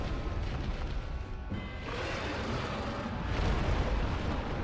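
A deep, rumbling blast bursts out in the Dark Souls Centipede Demon boss fight, heavy low boom spreading into a sustained roar that swells again near the end.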